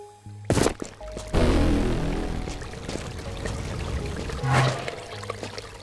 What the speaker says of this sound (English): Look at that water coming out.